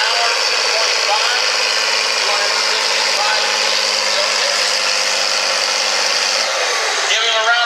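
Farm stock tractor pulling a sled at a 15,000 lb, 6 mph county fair pull in Elkhart County, Indiana, engine roaring loud and steady throughout at close range, with an announcer talking over it.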